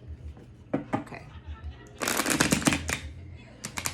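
Tarot cards being shuffled during a reading: a few short riffles, then a dense, crackling burst of bridging cards lasting about a second, with scattered taps afterward, close to the microphone and mixed with quiet talk.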